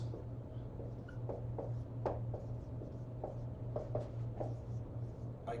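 Chalk or marker strokes writing a calculus equation by hand on a board, a series of short scratchy taps and scrapes spaced irregularly over a steady low background hum.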